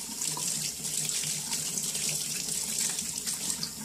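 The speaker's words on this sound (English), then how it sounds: "I just try to get as much of the paint out as I can under running water." Tap water runs steadily into a sink, splashing over a paint roller being rinsed clean, a continuous hiss with no talking.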